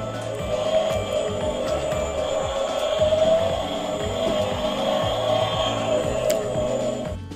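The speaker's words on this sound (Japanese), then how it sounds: "バスが走る音がするね。" A toy kindergarten bus plays an electronic driving sound: a steady, buzzy engine-like hum with a sustained tone that runs evenly and fairly loud for about seven seconds, with no talking.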